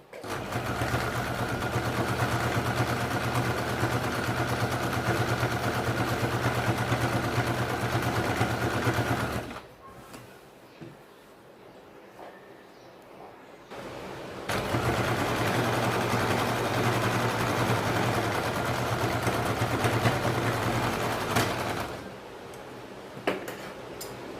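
A sewing machine stitches a cloth market bag in a loud, steady mechanical whir that runs for about ten seconds. It stops briefly, then runs again for a second long stretch.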